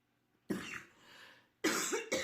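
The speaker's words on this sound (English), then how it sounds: "my coughing and stuff is starting to come back" A single sharp cough, followed after a pause by two more rough coughs in quick succession, close and fairly loud.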